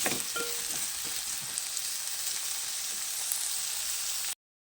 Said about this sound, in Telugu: ఇది కూడా ఆయిల్లో మంచిగా ఫ్రై అవ్వాలి